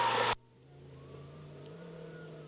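Car engine pulling in low gear on a rough rocky gravel road near the North Rim of the Grand Canyon, a steady low hum with a faint rising whine after a brief loud burst of noise at the start.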